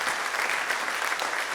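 Audience applause for a group of traditional folk singers fills the whole stretch, a steady dense wash of many hands clapping at moderate distance with no talk over it.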